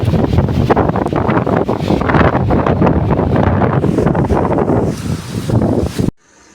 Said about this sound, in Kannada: ಫುಲ್ ಅಂದರೆ ಫುಲ್ ಮಳೆ ಗಾಳಿ ಬಿಟ್ಟಿದೆ